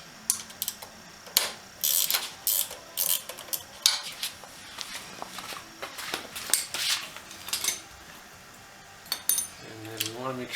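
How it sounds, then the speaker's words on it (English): Metal clicks and scrapes of a wrench loosening a nut on the governor of a 1976 Wheel Horse C120 lawn tractor engine, irregular close mechanical taps and ratcheting bursts with no speech during the work. "we're going to loosen this nut right here"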